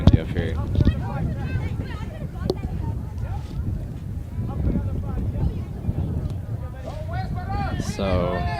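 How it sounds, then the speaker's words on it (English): Strong wind buffets an outdoor field during a boys' high school playoff soccer match, roaring steadily into the microphone throughout while a commentator talks over it. "Very windy up here."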